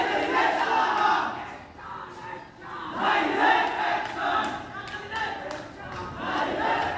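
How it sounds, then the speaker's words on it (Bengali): A political procession (michil) crowd in Chandraganj Bazar, Lakshmipur district, chanting slogans in loud rhythmic surges that rise and fall, with voices blending into a dense roar. "এই যে এখানে দিয়ে মিছিল নিয়ে যাবে তারা"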